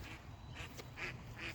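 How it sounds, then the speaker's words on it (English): Ducks flying overhead give a few faint, distant quacks in a loose rhythm over a quiet outdoor background, with no talking. "the ducks going overhead, so lovely."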